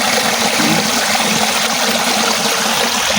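Steady rushing water of a flowing stream, loud and close, a continuous broadband wash with no voices.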